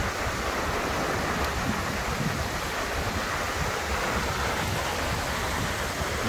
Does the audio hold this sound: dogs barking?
no